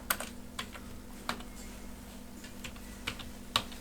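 Typing on a computer keyboard, a quiet series of separate key taps at an uneven pace, with a few firmer strikes, over a faint steady hum.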